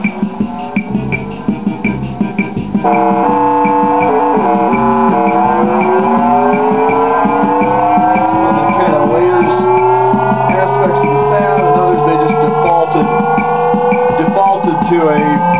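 A Conn Electric Band electronic rhythm unit producing its 'blast off' effect: a loud, continuous synthetic tone with stacked harmonics that sweep and rise steadily, preceded by a short rapid pulsing pattern, with no voices.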